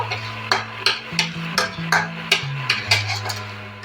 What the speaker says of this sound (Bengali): এগুলো ভালো করে পেঁয়াজের সাথে মিক্স করে নেব